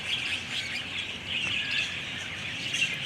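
A flock of budgies in a zoo aviary chatters and chirps continuously, a dense high twittering wash heard from a short distance with no talking.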